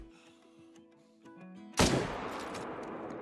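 A single loud hunting rifle shot in Call of the Wild cracks out suddenly after quiet ambient sounds, followed by a decaying rolling echo.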